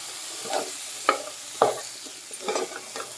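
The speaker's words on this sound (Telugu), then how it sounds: "ఇలాగా పచ్చివాసన కూర్చోపోయేదాకా కలుపుకోవాలి" Elephant yam and spinach curry is stirred in a pan, making soft scraping strokes and a few sharper spoon knocks against the metal over a faint low sizzle. The stirring is quiet and unhurried, with no speech.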